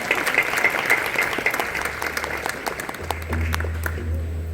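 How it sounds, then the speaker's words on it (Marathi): Audience at a Diwali music event in a Pune housing society applauding two singers, a steady burst of many hands clapping, fairly near, with a low hum entering toward the end. "एकदा जोरदार या दोघींसाठी टाळ्या."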